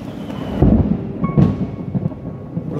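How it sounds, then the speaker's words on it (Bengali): Thunder rumbles through a forest near Kolkata during rain, with two heavy rolling booms close together over a steady low wash of rain. "প্রচুর মেঘ ডাকছে।"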